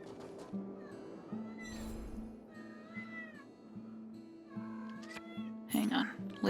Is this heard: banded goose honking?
no